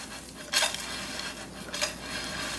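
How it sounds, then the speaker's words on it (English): Crisp roasted acorn and butternut squash pieces tumble and clatter in a metal pan, two brighter knocks standing out from a steady faint rattling, with no voices. "you can hear them hit the pan differently, like crispy"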